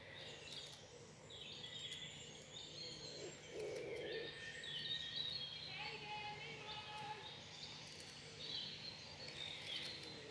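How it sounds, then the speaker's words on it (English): Several birds sing and chirp outdoors in the morning, overlapping high calls from middle distance over a soft, steady background hiss with faint insect-like buzzing. "Just take a moment just to listen to the birds here this morning."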